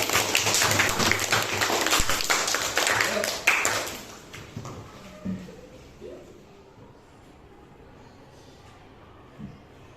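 Students in an eighth-grade classroom clap together after a poetry recital, a lively burst of dense applause that lasts about four seconds before thinning out into scattered taps and the quiet of the room.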